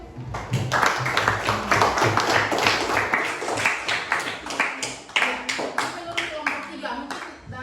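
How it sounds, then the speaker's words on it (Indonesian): A classroom of students in a junior high school claps together, with loud, dense, fast hand claps continuing for several seconds while children's voices chatter underneath. "Kita tepuk tangan dulu"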